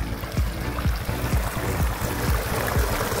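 Water gushing steadily from a newly installed deepwell irrigation system pump outlet, a continuous close splashing flow with rhythmic low pulses, no talk.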